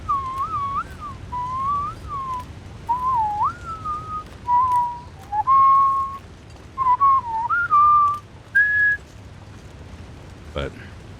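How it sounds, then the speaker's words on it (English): A person whistles very quietly, a string of short wavering high notes with gaps between them, over a low background rumble. "I'm trying to whistle really quietly."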